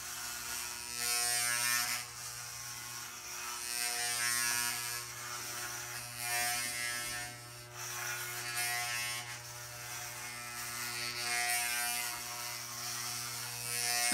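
Electric hair clippers buzz steadily while cutting a short haircut, a close continuous motor hum with small shifts in pitch and loudness as the blades pass through hair, and nobody speaks.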